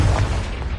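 A Confringo blasting spell goes off in Hogwarts Legacy as a single short, loud boom with a rumbling burst that fills the moment.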